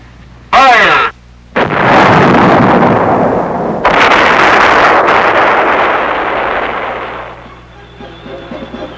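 An artillery battery of the 3rd Armored Division fires during field training, with a sharp blast followed by a second heavy boom that rumbles and rolls away over several seconds, loud and outdoors.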